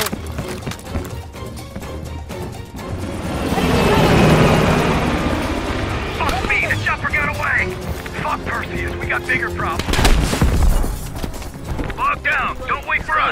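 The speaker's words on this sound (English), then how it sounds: "He's climbing into a chopper." Helicopter in the Call of Duty Black Ops game, a rising rotor roar that swells midway under game effects, gunfire-like clatter and shouting voices.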